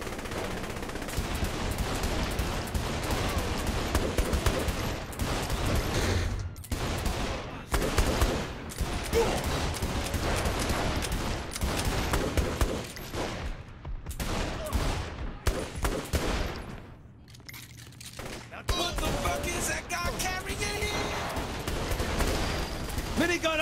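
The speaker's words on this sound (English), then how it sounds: "minigun up top!" A minigun in the video game Saints Row: The Third pours out dense, continuous fire in long bursts with a few brief gaps, loud and close, while a voice talks over parts of it.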